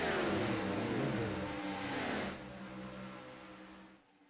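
Hauck Designs Gen 4 Series race cars lap the Chicagoland oval, engines whining loudly as they sweep past with falling pitch, then fading into a more distant drone that drops away near the end.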